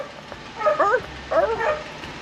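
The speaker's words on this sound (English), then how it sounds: "there's a bunch of puppies running around" Puppies give high, wavering yips and whines in two short bursts, close by, over faint background noise.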